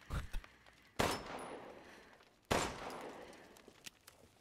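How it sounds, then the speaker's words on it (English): Two sharp gunshots ring out in Resident Evil 8, about a second and a half apart, each loud blast trailing off into a decaying echo over a low background. "I just wasted two bullets there"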